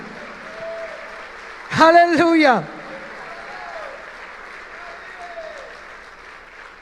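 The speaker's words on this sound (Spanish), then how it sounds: "Dale un fuerte aplauso." Brief burst of clapping from a church congregation during a sermon, under a minute of preaching voice; someone speaks over and around it.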